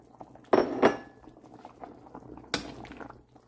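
Plantain bananas dropped into a pot of simmering beef pochero, giving two soft splashing clunks, then a single clink against the pot over a quiet bubbling simmer.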